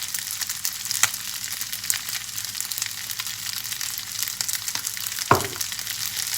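Shrimp chili paste fried rice is stir-fried in a pan, a continuous close hiss of frying with soft stirring ticks and one sharper scrape of the utensil near the end.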